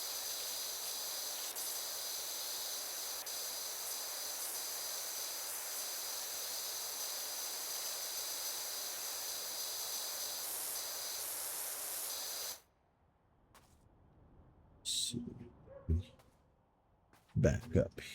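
A virtual pressure washer sprays in Power Wash Simulator: a loud, continuous hiss runs steadily for about twelve seconds, then cuts off, leaving a quiet gap followed by a few short bursts of sound.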